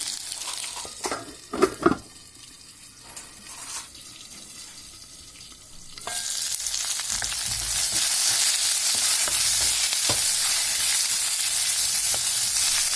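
Tomatoes for chutney fry on a low flame in a pan. A few clanks and stirs come first, then a steady, fairly loud hissing sizzle builds and holds for the rest of the clip.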